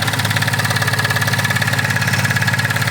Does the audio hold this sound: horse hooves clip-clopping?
no